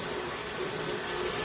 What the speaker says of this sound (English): Putting the beans in.